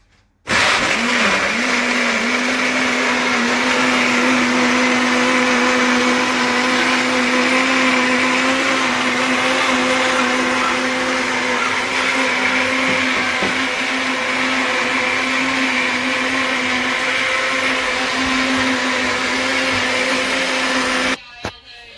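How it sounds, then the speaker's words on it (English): A kitchen blender runs continuously at full power, blending carrots for Jamaican carrot and beetroot juice, with a steady loud motor whine and churning for about twenty seconds before stopping abruptly. "And then now we're going to put our lid on. And then we're going to start blending."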